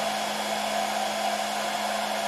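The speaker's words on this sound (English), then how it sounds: "Now if I increase the speed of my hairdryer" A hair dryer blows steadily at a mini wind turbine with a continuous, loud, even whoosh and a constant motor hum throughout, no voices present.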